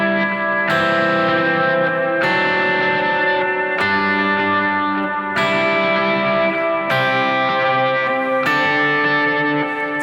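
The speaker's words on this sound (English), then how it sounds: "So instead of playing everything together, I break up the chord." Electric guitar playing a broken two-note chord voicing in a worship style, notes picked separately in a slow repeating pattern, drenched in chorus, echo and reverb effects, loud and sustained with no talking.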